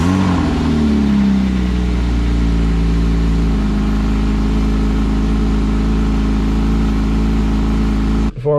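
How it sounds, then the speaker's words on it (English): A Porsche engine on a cold start rumbles loudly at a high, steady idle, with a brief rising rev at the start settling into a constant close drone before cutting off abruptly at the end. "cold start for the Porsche."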